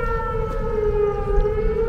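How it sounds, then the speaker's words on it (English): An outdoor civil defense storm warning siren wailing ahead of a severe storm, a loud, sustained tone with strong harmonics and a slight downward drift in pitch, steady and unbroken with no speech. "You can hear our sirens,"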